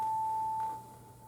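A struck tuning fork held over a tube resonates with the air column inside it, giving a pure, steady tone that cuts off partway through and leaves a faint room hush.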